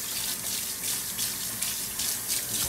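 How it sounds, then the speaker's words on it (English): Tap water runs steadily into a sink while dishes are washed, a close continuous splashing hiss with gentle surges and no talking. "And wash all of the dishes."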